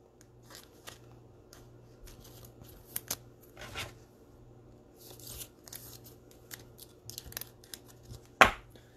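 Trading card packs for a Mosaic NFL football card break are torn open and handled nearby, giving quiet scattered crinkles, rips and shuffling clicks spread over several seconds, with one sharper tear near the end and no talking.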